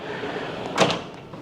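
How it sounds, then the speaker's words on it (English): A sliding bathroom door in a Hyatt Centric Waikiki Beach hotel room glides open or shut, a short soft rumble over low room hiss, with no talking. "this door slides close or opens up for privacy"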